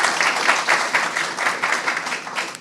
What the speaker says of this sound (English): And so how about a round of applause for Mimi and Kelly?